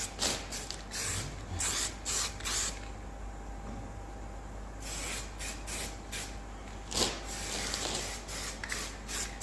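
A spray can of primer lays a light dusting of paint in short hissing bursts with brief pauses between, close by and fairly quiet, with no talking.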